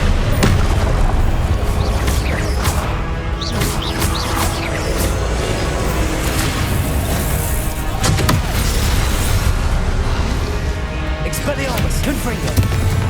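Confringo and Expelliarmus spell blasts in the video game Hogwarts Legacy, a dense run of loud booming impacts and crackling bursts layered over game effects, with a voice calling out spells throughout.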